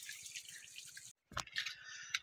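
Irrigation water falling from a pipe onto a maize field on a hot day, a soft, steady splashing that briefly cuts out and then returns with a few sharper drips.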